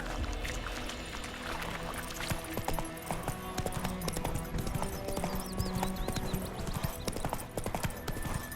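Roach, the horse in The Witcher 3, gallops with quick, close clip-clop hoofbeats throughout, layered over ambient game sounds and a faint musical bed.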